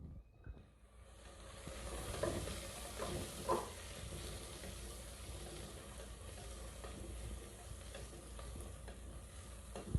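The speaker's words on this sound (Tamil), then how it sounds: "இப்போ நல்லா வெங்காயத்தை வதக்கி விட்டுக்கலாம்." Onions sauté in a pan for rajma biryani, giving a steady, close sizzle with occasional clicks and scrapes of stirring and a faint hiss throughout, growing fuller after the opening moment.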